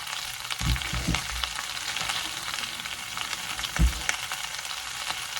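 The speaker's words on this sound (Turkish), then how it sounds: "Çorba pişiyor bu arada." Steady hiss of soup bubbling and sizzling in a pot, with a couple of soft knocks of a spoon against the side.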